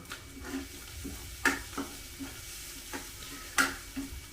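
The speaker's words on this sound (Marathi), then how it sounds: "वाटण चांगलं परतलं ना तर भाजी खूप मस्त होते" Onion-spice masala paste frying in oil for a sev bhaji gravy, a soft continuous sizzle with periodic scraping clicks of a spoon stirring the pan, close and moderately quiet.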